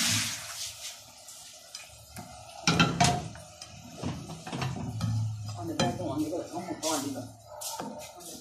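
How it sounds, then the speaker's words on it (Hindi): Half a kilo of pre-boiled mutton tipped into a pan together with its yakhni stock, with clattering of the pan and utensils and a sloshing burst of pouring in the middle. "अब हम इसे एक पैन में डालेंगे और इसे इसकी यखनी समेत पकाएंगे।"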